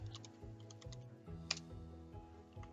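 Typing on a computer keyboard for a forum keyword search: a quick, uneven run of light clicks and key taps, close and fairly quiet, with one sharper keystroke midway.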